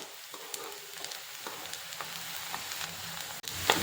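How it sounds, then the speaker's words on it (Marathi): Onion frying in oil until reddish brown, a soft continuous sizzle with faint stirring scrapes, quiet and close, ending in a brief louder clatter. "कांदा छान असा लाल होईपर्यंत परतवायचा"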